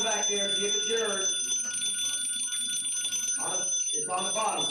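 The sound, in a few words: alarm bell on a firefighter's air tank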